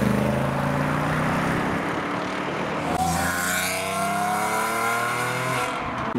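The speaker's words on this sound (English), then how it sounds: "Next up we've got the Morgan departing." A Morgan car pulls away from a car show, its engine note rising as it accelerates past, loud and fairly close over a constant background rush of other traffic and crowd noise.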